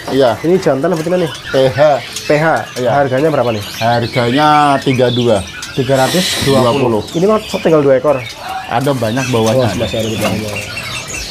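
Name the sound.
caged songbirds calling in a bird shop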